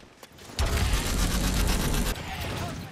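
A futuristic gun in the video game Call of Duty: Advanced Warfare fires a rapid sustained burst of about one and a half seconds, loud and close, with quieter game sounds before and after.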